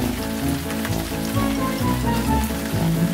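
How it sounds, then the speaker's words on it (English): Rain falls in a dense, even patter of raindrops striking a surface, with crackling drops spread through the steady wash and no voices. "Listen to the raindrops!"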